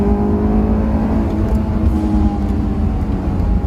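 A Nissan 370Z Nismo engine pulls hard on a race track, a loud, close, sustained drone with steady rising tones as it accelerates, with no voices.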